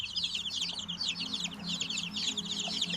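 A flock of small chicks, including a guinea fowl chick, peeps and chirps continuously, high and busy, with soft clucking from nearby hens underneath.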